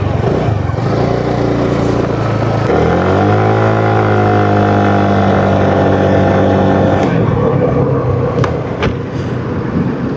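A TVS Jupiter 110 scooter engine fires up and settles into a steady, loud idle with a rising rev, heard close throughout.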